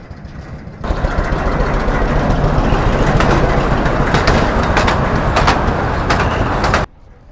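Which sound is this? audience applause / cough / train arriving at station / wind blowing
train arriving at station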